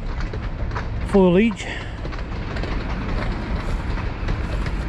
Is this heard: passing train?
yes